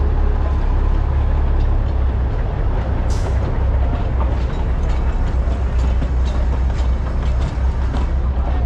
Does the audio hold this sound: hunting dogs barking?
no